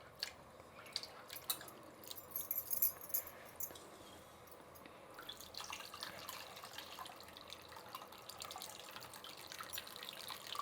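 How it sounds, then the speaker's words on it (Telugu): Water poured over tomatoes and mixed by hand in a bowl, quiet wet squishing and dripping close by, no voices. "ఈ టమాటాలకి ఇంకా కొంచెం నీళ్ళు పోసుకొని కలిపి తీసుకుంటున్నాను"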